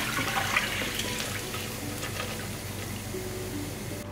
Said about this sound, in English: Now in a pan, add soaked lentils with the water.